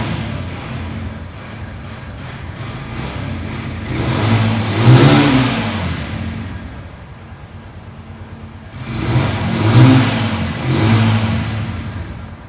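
A 150cc motorcycle engine idles steadily and is revved twice in rising, swelling bursts, close by and without talk.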